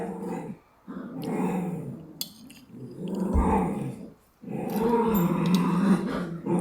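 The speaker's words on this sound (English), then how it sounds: "You know when your dogs fight, like play fight, it sounds so bad" Dogs growl and snarl while play fighting, continuous rough rumbling in several long bursts with brief gaps, close by and fairly loud.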